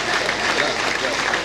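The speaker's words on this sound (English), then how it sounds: "Please, a round of applause for him." An audience applauds at a club's 60th induction ceremony for new members, a dense wash of clapping with a voice talking over it.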